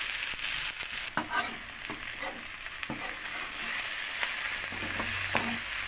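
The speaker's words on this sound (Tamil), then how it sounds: "இதே மாதிரி திரும்பவும் கீரை அப்படியே நல்லா கிண்டி விட்டுக்கலாம்" Drumstick leaves sizzle steadily as they fry in a pan, with repeated scraping stirs breaking through the continuous crackle; close, fairly loud, no voices.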